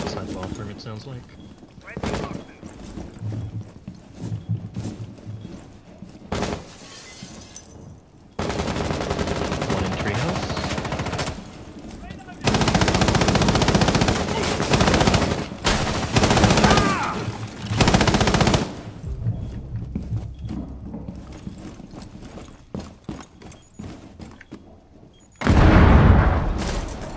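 Bursts of automatic gunfire and heavy shots during a House team deathmatch bomb round of Rainbow Six Siege, some loud and near and others muffled and distant, with gaps between volleys and players talking over them.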